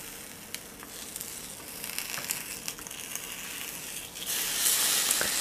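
Bacon, tomato and bread for a BLT sizzle and crackle on a Dash mini griddle, a steady close frying hiss with scattered pops that swells louder near the end, no voices.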